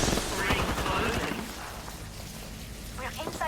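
Gunfire in Apex Legends from a shooter positioned on a ship comes in a quick, loud volley of cracks at the start, then fades under a voice talking over the rest.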